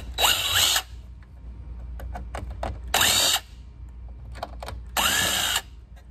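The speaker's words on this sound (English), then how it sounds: "We're gonna use the power drill for a little bit of extra speed." A power drill backing three screws out of a brown plastic drawer guide, three loud short whirring bursts separated by quieter handling clicks and rattles.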